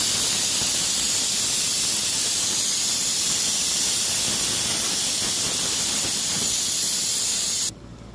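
Loud, steady hissing of steam escaping under pressure from a pressure cooker whistle, a continuous jet that cuts off abruptly near the end.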